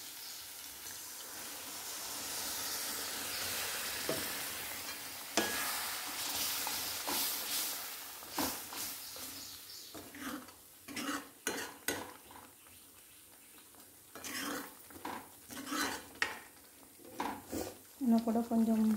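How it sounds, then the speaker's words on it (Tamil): Water goes into paneer gravy cooking in a pan, a broad hiss and sizzle at first, then scattered stirring, clinks of a utensil against the pan and bubbling, all fairly close with no talk. "தண்ணி ஆட் பண்ணிக்கலாம்."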